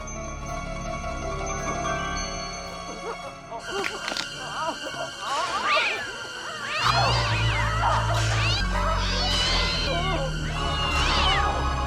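A cat meows and yowls several times in a 1990 horror film, strained cries rising over eerie background music, followed by a deep low rumble building underneath.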